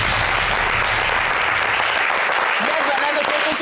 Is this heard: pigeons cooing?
no